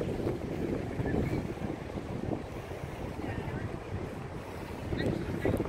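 Gusty wind buffets the microphone in a low, continuous rumble at Moonlight Beach at sunset, with faint surf-like wash in the background.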